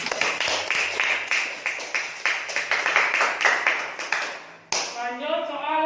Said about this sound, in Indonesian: Tepuk tangan dulu untuk Pandi.